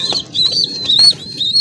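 Pigeons close at hand in a brief burst of high, thin calls and a quick flutter of wings, with a soft low murmur beneath.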